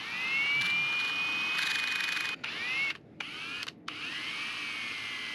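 A high-pitched motorized whine spins steadily, dipping and cutting out briefly a few times before resuming, close to the microphone.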